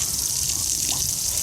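Water runs from a garden hose as a dog plays with it outdoors, heard as a brief, loud, hissing gush of spray with a splashing texture.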